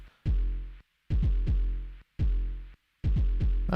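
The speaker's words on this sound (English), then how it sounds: "Then there's our kick drum" Booming kick drum from a Behringer LM Drum machine, struck in a steady pattern of deep, loud hits with short silent gaps between them, some beats doubled, no talking.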